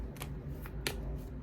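Tarot cards are shuffled in quick bursts of soft riffling and slapping, close and fairly quiet, with a few separate swishes over a second and a half.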